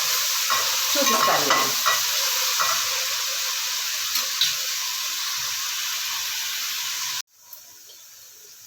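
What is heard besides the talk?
taro root pieces frying in oil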